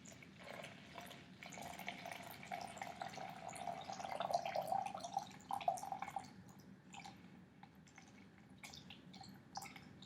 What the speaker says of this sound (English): once it stops dripping